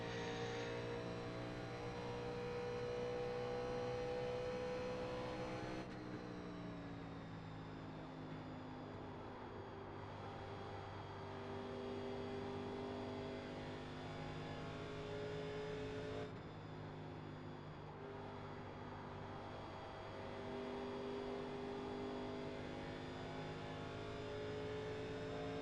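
A race car engine in the iRacing sim at Indianapolis drones loud and steady, its pitch dipping and swelling as the throttle lifts and comes back on, with no talking.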